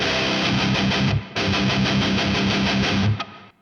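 Loud distorted electric guitar with its boost pedal and 10-band EQ switched off chugs through a riff, cutting out for a moment and then resuming before stopping abruptly.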